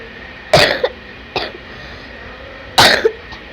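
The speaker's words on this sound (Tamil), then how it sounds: "அந்த இருமல் ஒன்றும் என்னைய விட்டு போக மாட்டேங்குது" Three separate harsh coughs, the first and last loud and close, with a smaller cough between them and quiet pauses in between.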